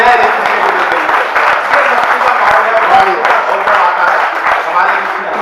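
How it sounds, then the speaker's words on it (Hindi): A seated audience at a Hindi comedy poetry show claps steadily for several seconds, a dense, continuous patter of many hands, close and fairly loud, with a voice faintly beneath it. "एक बार हाथ खड़े करके तालियां बजाए"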